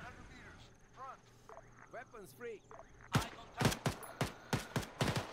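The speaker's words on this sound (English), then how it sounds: "Open fire." Gunfire in the Arma 3 combat game, a rapid run of sharp loud shots following a spoken stretch, bursts spaced unevenly over the final two seconds.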